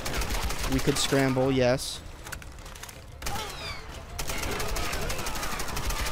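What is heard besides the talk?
gunfire in Tomb Raider video game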